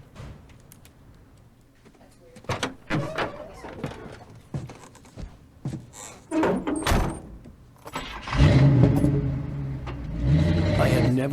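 In the Alan Wake video game, a car door opens and shuts with soft thunks and clicks, then an engine starts and rumbles loudly near the end, while someone talks during the first half.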